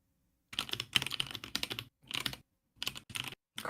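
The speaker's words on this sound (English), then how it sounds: "And I'm a slow typer." Typing on a computer keyboard in bursts of rapid key clicks separated by short pauses, close and moderately loud, with no voices.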